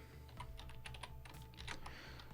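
Clicky computer keyboard keys typed in a quick, uneven run while coding Python, close and steady with no voices, over a faint low hum.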